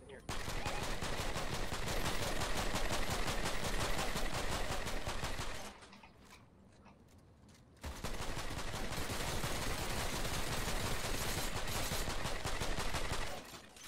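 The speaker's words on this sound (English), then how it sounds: "Shoot all the bottom walls out, he'll fall down." Sustained automatic gunfire in the video game Fortnite, rapid bursts running for several seconds, a short quieter pause, then more continuous firing, with players talking over parts of it.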